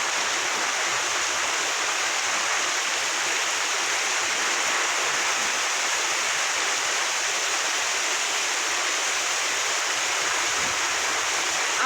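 A nor'wester storm sweeps through a village, its wind roaring in a constant loud rush of broadband noise that holds steady for the whole stretch, with no talking.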